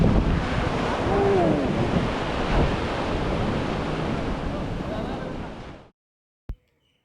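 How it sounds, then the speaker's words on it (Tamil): Sea waves roll onto Mullaitivu beach under heavy wind buffeting the microphone, a loud continuous roar that cuts off abruptly, followed by silence and a single click. "அந்த முல்லைத்தீவு கடற்கரையோடு இணைஞ்ச பீச் தான் இது"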